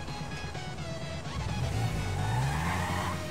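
Honda 650 motorcycle ridden in GTA 5 (GTA V PC), its engine note rising and revving with a tire squeal near the end, steady and close throughout with no talk.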